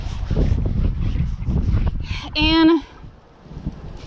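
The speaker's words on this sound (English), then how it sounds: "sorry about the wind" Gusty wind buffets a microphone outdoors, giving a loud, rumbling low roar that runs under someone speaking nearby.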